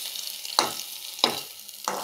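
A single small fish frying in hot oil, with a steady low sizzle broken by three sharp crackling bursts about two-thirds of a second apart, each fading quickly; close and moderately loud, no voices.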